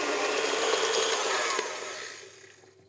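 A stand mixer with the paddle attachment beats a mixture on medium-high with a steady, close whirring drone that tapers off as the motor slows and stops.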